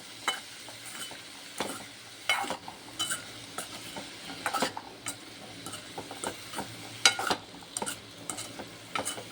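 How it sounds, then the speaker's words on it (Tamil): Potato stir-fry being stirred in a pan with a spoon, giving soft irregular scrapes and clinks over a faint sizzle, close up and fairly quiet, with no talking. "இப்போ லைட்டாக கிண்டி விட்டுருவோம்."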